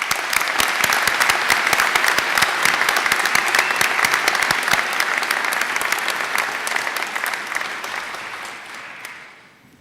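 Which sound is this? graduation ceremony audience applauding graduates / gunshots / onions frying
graduation ceremony audience applauding graduates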